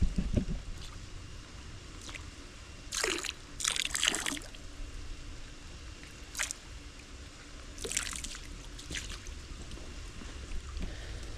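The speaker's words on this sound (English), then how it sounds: "I'm gonna start out by pouring just a little bit up here at the stairs" Liquid pool chemical splashing as it is poured into pool water at the stairs, close gurgling and trickling bursts over a steady outdoor background with faint drips between pours.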